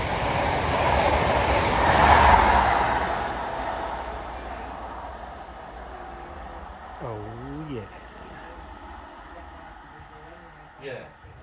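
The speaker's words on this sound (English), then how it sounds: "next clip you'll see is that train going past." A train rolls past outdoors as a loud, broad rumble that swells to a peak within the first few seconds and then slowly fades, leaving quieter background sounds and a few brief higher-pitched noises near the end.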